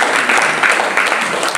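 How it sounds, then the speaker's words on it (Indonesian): Members of a church gathering at a prayer and fasting service on Gunung Salak, Bogor, give a loud, close round of hand clapping, a brief continuous patter of many hands. "Berikan tepuk tangan buat dia."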